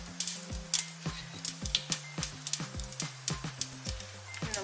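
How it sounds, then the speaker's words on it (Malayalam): Mustard seeds and urad dal pop and sizzle in coconut oil in a pan, a soft, close crackle under a quick run of sharp spoon taps and clinks against the metal. "പാനിൽ വെളിച്ചെണ്ണ ഒഴിച്ചു കൊടുത്തു. എന്നിട്ട് കടുകും ഉഴുന്ന് പരിപ്പും ചേർത്ത് കൊടുത്തു."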